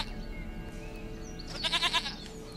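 A goat in The Witcher 3 bleats once in a short wavering call over a low game ambience, moderately near and fairly quiet, with no speech.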